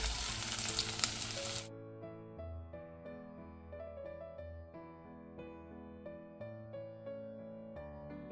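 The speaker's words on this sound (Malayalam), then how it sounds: "മൂത്ത് വരുന്ന ഉലുവയിലേക്ക് നമുക്ക് വെളുത്തുള്ളി ഇഞ്ചി ചതച്ചത് ഇടാം." Crushed garlic and ginger hit frying fenugreek in a pan for a dried-fish curry, giving a loud, hissing sizzle that lasts about a second and a half before music takes over.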